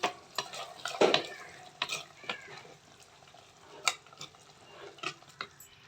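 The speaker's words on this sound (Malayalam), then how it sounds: "ഇതിലേക്ക് കറിവേപ്പില ഇട്ട് കൊടുക്കാം ഇളക്കി കൊടുക്കാം" Spoon stirring mutton curry in a pot just after curry leaves go in, with scraping strokes and a burst of sizzle near the start, then intermittent clinks and scrapes over a soft simmer.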